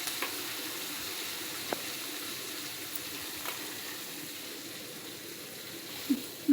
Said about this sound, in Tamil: எண்ணெய் விட்டு சோம்பு போட்டுட்டேன், பச்சை மிளகா,